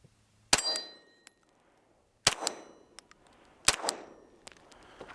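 Rounds from a Canik Elite Combat pistol striking steel targets, three sharp ringing clangs a second or more apart, each with a short metallic decay, plus a few faint ticks between them.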